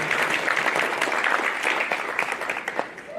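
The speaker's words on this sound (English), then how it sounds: "So let's give a round of applause to Meridian." Audience applause fills a teacher of the year ceremony for a public school district, a steady wash of many hands clapping close and loud, tapering slightly near the end.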